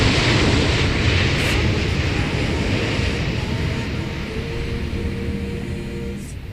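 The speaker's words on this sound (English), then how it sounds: "Flight 865, Korean Air, Airbus A321neo going to Gwangju." A Korean Air Airbus A321neo at an airport roars past as a broad, loud jet rumble that fades slightly over several seconds, heard from some distance.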